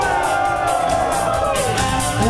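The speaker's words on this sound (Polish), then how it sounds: "Uwaga, chłopaki wyją!" Boys in a concert audience howling, producing a loud, sustained, shouting crowd din over live band music.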